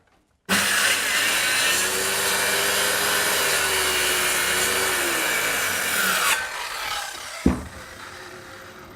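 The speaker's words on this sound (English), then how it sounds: "We've cut that little slot there on this scrap bit of timber that I found in my rubbish pile." A saw cuts a small slot in a scrap piece of timber with a loud, continuous, close rasp for about six seconds. It then slows to rougher strokes and ends with a sharp knock.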